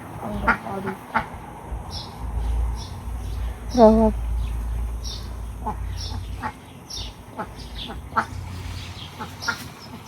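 Ducks quack in short, repeated calls at a farm, some near and some farther off, over low background rumble and a voice talking in places.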